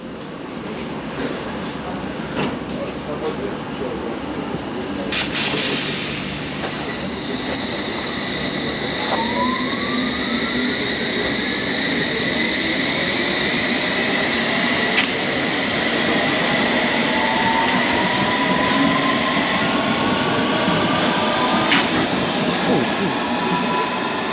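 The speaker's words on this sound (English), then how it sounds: "Oh, we got I think an empty train or a freight train" A freight train rumbles steadily through a London Overground station, wheels squealing and rising tones sweeping past, with faint clatter and a voice briefly in the background.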